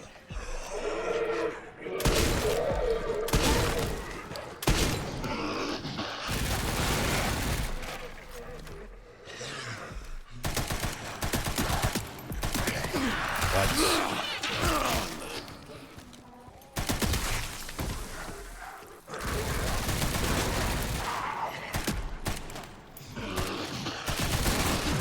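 Bursts of enemy gunfire crackle loudly in the survival horror game Resident Evil Requiem, several heavy volleys separated by short gaps, with a voice talking between them.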